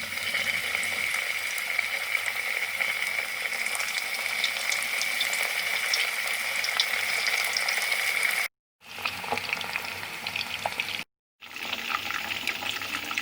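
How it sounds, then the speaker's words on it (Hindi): Steady, dense sizzle of meat koftas frying in hot oil, continuous and close, with two brief silent cuts near the end. "कोफ्तों को फ्राई करते हैं।"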